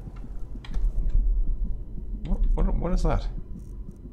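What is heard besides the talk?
heartbeat sound in video game Skyrim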